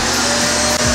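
A household vacuum cleaner runs at full power, plugged into a power meter, giving a loud, steady motor roar and whine with a brief dip near the end.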